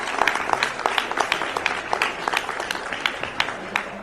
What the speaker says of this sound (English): give everybody in this room a big round of applause